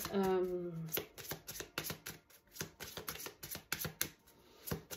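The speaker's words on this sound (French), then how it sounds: "On va aller tirer les cartes" Tarot cards being shuffled and drawn, a quick series of soft riffling slaps and flicks that follows a brief moment of speech at the start.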